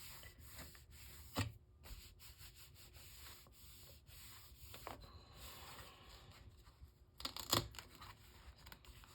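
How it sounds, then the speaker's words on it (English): Paper being rubbed down firmly by hand onto a scrapbook album page for a Winnie the Pooh album, a steady dry scraping and rubbing with a few sharper louder strokes, close and alone without talk. "I'm just gonna hold it for a second, rub it down good"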